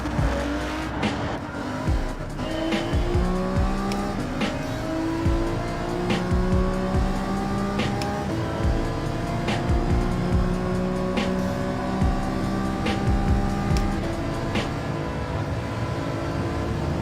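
Gran Turismo 7 race car engines whine and rise through gear changes, with repeated tire squeals over a steady synthetic engine drone, loud and continuous.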